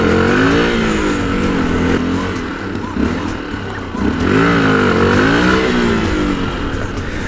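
A motorcycle engine revs loudly and close by, pitch rising and falling in repeated surges against a steady low rumble.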